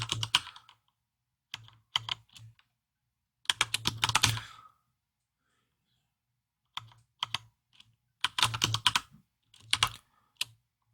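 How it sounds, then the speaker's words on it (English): Bursts of typing on a computer keyboard come in quick uneven runs of clicks separated by pauses, close and fairly quiet, with no talk. "I'll actually type this time, guys, so you can make fun of my horrible typing."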